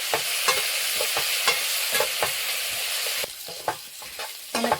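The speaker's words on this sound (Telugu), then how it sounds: "ఇలా చక్కగా కలుపుకోవాలండి. బాగా కలుపుకొని వేయించుకోవాలి." Country chicken pieces coated in green chilli masala paste fry in a hot pan, with a steady close sizzle broken by repeated sharp scrapes of stirring at an irregular pace, and no talking.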